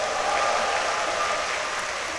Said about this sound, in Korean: 여러분 환호성 섞인 박수 한 번 더 부탁드리겠습니다